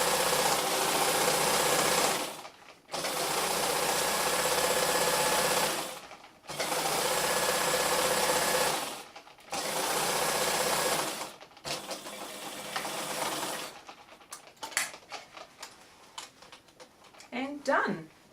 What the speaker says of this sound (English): I'm just using my presser foot as a guide to make sure I sew in a straight line.